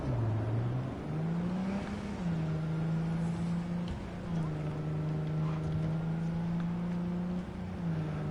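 A car drives in the video game Cyberpunk, its engine droning steadily with a few shifts in pitch as it accelerates and eases off, close and continuous without pause.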